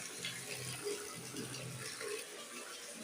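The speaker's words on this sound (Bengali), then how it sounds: "এই যে কল থেকে জল হিটারে বসাবো" Water runs from a tap in a steady, faint splashing stream with no speech.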